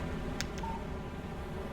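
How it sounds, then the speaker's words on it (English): Alan Wake PC game phone text-message alert: two short electronic beeps near the start followed by a brief soft tone, then quiet game ambience with no talk. "Text message from Barry."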